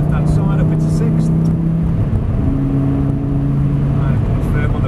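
Lamborghini on the Prestwold driving-experience track, engine note holding then dropping as it shifts up into sixth gear, loud and close, with an instructor talking over the engine.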